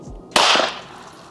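A single sharp gunshot cracks from a firearm fired by a child at a shooting lesson, a sudden loud bang after a quiet moment, then a brief fading echo.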